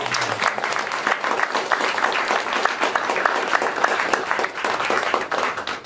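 An audience at a jubilee concert applauds in a dense, sustained burst of many hands clapping that fills the whole stretch.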